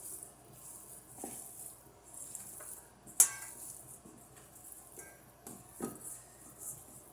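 Spoon scraping and clinking against a bowl while ground beef mixture is mixed with salt and pepper, quiet soft squelches broken by a few sharp metallic taps, one louder clink early on.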